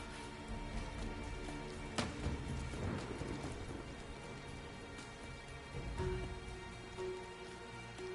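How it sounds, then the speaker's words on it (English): Rain falls steadily in the video game Rise of the Tomb Raider, a dense continuous patter with a sharp crack of thunder partway through. "You're hearing the rain in this game"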